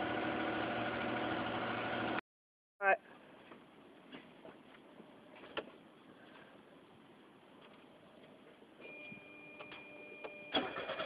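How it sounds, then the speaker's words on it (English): An engine idles through a homemade muffler, giving a low, fairly quiet, steady running drone with scattered clicks and ticks. A louder burst comes before it, followed by a brief silence. "And there it is running with the new muffler."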